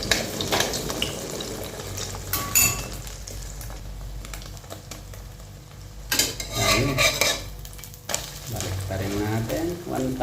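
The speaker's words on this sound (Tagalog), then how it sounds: "Ayan, prito muna natin itong itlog." Egg frying in a pan for a breakfast of fried dried fish, eggs and coffee, giving a steady close sizzle with clinks of a utensil against the pan and a few louder scraping surges.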